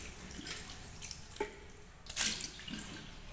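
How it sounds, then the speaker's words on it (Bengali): Bananas get rinsed under running tap water, a close, soft splashing stream with a few sharper gushes and drips, no voices. "এই না কলাগুলো সব ধুয়ে নিচ্ছি।"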